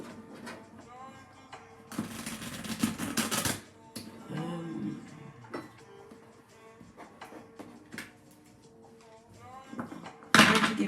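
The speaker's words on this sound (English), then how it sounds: "Let's give it a good shuffle." A deck of cards is shuffled in a few quick riffling bursts, each about a second or two long, with quieter handling and ticking between them, close and fairly soft.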